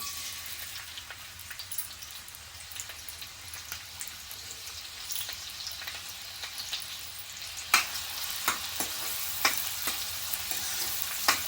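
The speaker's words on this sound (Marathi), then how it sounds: "तेल गरम झालेलं आहे आपण कांदा घालूया" Chopped onion frying in two to three spoons of hot oil in a kadhai gives a steady, close sizzle, with light scraping and stirring clicks that grow sharper toward the end.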